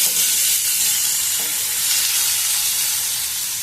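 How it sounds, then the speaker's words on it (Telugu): Tomato and frozen peas sizzling in a hot pan for lemon rice, a loud, dense, steady hiss and crackle that holds evenly from start to finish, close up with no talk. "టమోటా, కొద్దిగా ఫ్రోజన్ బఠానీ వేస్తున్నాము."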